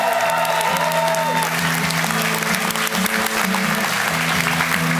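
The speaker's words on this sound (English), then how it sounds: "Please give them all another big round of applause right here." Sustained applause from a concert audience at Melkweg in Amsterdam fills the whole stretch, dense and steady, with a faint sustained musical tone beneath it and no talk on top.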